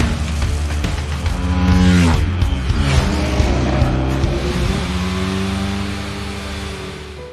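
Racing motorcycle engines rev and roar close by, their pitch rising and falling across several loud sweeps, with no voices over them.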